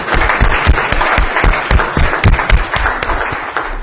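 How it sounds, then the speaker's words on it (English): Audience applause at a city council meeting in El Cajon, a steady burst of many hands clapping close by that carries on evenly for several seconds without voices. "Let's give a big round of applause for that video."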